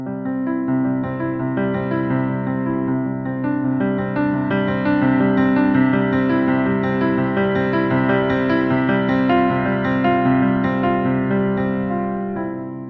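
A piano pattern played at full speed, a dense, rapid run of sustained notes ringing together, loud and steady throughout with no voice.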